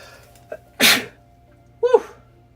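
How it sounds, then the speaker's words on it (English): A man sneezes indoors in a dusty room: a small intake catch, then one loud, sharp sneeze burst followed a second later by a shorter voiced exclamation, close to the microphone. "I got to sneeze, man."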